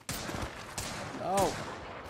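Apex Legends gunfire crackles in quick bursts of close shots, with a brief voice-like sound partway through amid the game's background noise.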